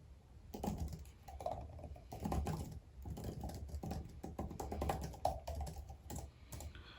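Fingers type on an Apple Magic Keyboard with scissor-style keys, rapid soft clicky patter in bursts with short pauses, close and fairly quiet, no voices.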